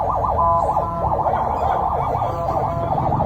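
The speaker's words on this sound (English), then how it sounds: "this is the ambulance with his body" A wailing ambulance siren sweeps up and down in a steady repeating cycle, loud and continuous over traffic rumble.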